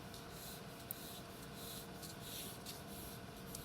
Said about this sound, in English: I'm going to just draw an arc